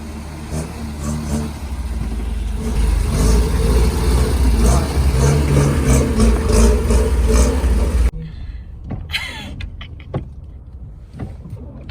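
A stuck truck's engine roars and revs steadily at close range for several seconds, then cuts off abruptly, leaving quieter outdoor noise and faint voices.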